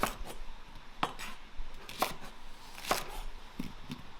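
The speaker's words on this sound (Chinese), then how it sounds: "然后把那个红萝卜切成大大的滚刀坨坨，再切上1根大葱段" A knife chopping carrot and scallion into large chunks on a board, about four distinct sharp thuds roughly one second apart, with lighter taps and clinks between them, close and alone.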